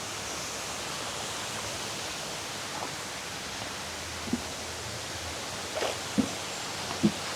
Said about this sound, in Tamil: இங்கிட்டும் ஒரு சிறிய அளவிலான